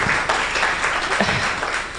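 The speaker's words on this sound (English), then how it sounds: "So, of course, a round of applause for her, please." An audience at a CEO forum in Kenya breaks into steady applause, a dense wash of clapping that holds at an even level throughout, with faint voices mixed in beneath it.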